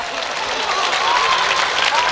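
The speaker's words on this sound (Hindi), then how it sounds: "ताली बजा दो भाई।" Audience applause at a Hindi-Urdu mushaira poetry recital in Delhi's Mubarakpur, a steady dense wash of clapping filling the hall at full level throughout, with a faint voice audible beneath it.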